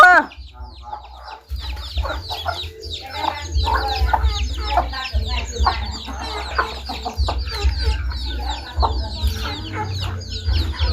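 Farm chickens cluck and chatter continuously at close range, with overlapping calls and a low rumble underneath, and a voice speaks briefly at the start.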